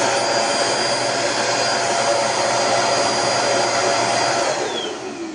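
A Philco PAS1600P Cyclone Force 2-in-1 vacuum cleaner, rated 1450 W, runs with a loud, steady motor whine and airflow roar close by, winding down at the end.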